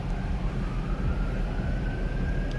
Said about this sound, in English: All right, there's a siren.